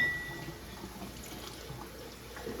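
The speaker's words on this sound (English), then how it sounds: "Just give them a good rinse with hot water." Hot tap water runs steadily into a sink while canning jar lids are rinsed, a soft continuous hiss and trickle with faint clinks.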